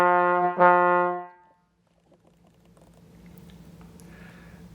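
A trombone plays two or three sustained notes with normal tonguing, each note started cleanly, close and alone, followed by a few seconds of faint room noise.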